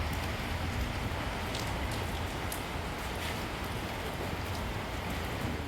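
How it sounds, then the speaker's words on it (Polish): Steady rain falls on a roof tiled with metal roofing sheets, a dense continuous hiss that holds an even level throughout, with no voices. "Ciągle pada."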